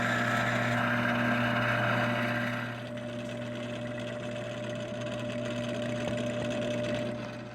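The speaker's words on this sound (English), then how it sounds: "I use this milling machine to fix this part for a milling machine" A milling machine runs with a steady motor whine and strong tonal hum, louder and harsher at first, then settling into a quieter, even drone.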